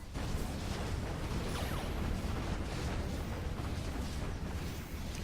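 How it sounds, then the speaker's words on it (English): Heavy, continuous booming and rumbling from a rapid-firing Uber cannon in a sci-fi strategy battle, dense and loud throughout with no clear gaps between blasts. "that thing can really spam its Uber cannon"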